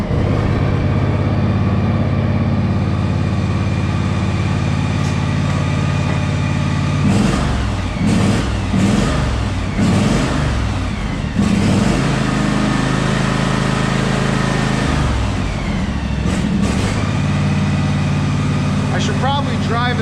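A John Deere engine, running on fuel treated with a scented additive, starts and runs with a steady mid-pitched hum and some revving, while a person talks over it.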